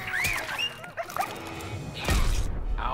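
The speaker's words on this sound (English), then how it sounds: "that's Harley Quinn's super move. Two dogs and a bat to the face" Harley Quinn's super move in Injustice 2, with two dogs attacking: yips and barks over game clatter, then a loud crashing impact near the end.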